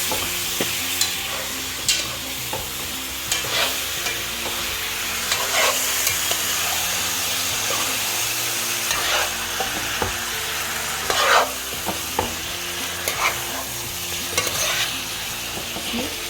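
Mango anchar sizzling in a pot while being stirred, a steady frying hiss broken by repeated scraping strokes of the spoon, close and fairly quiet with no talk.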